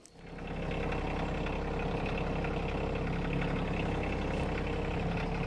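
A tractor engine runs on a slope while hauling chicken compost, a steady, loud mechanical drone with a rough, knocking rhythm that builds quickly and then holds.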